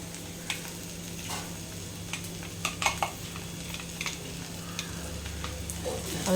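Okra cooking in a pan with a crushed coconut mixture gets stirred, soft sizzling under repeated scraping and clinks of a spoon against the pan, close up with no talking.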